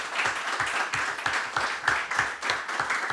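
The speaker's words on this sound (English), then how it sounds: "Really, a big round of applause for our speakers again." A workshop audience applauding its speakers indoors, a steady patter of many hands clapping at a moderate volume for about three seconds.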